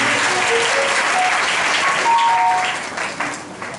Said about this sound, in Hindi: एक बार फिर से पवित्र आत्मा के लिए जोरदार ताली बजाएंगे।